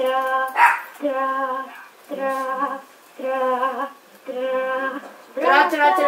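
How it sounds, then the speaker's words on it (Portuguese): A dog gives a run of five or six drawn-out, tonal barks or yelps in even bursts with short gaps between, loud and close, over the background of a Black Ops 2 game session. "Tem meu cachorro aqui gritante."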